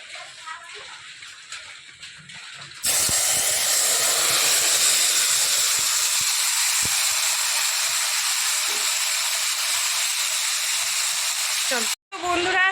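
Heavy rain pours down in a steady, loud, dense hiss that starts abruptly after a quieter opening and continues unbroken almost to the end, with a brief dropout just before it resumes.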